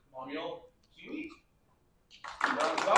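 An audience applauds a panel of local authors at an author fair, and the clapping swells in at the end after brief talk.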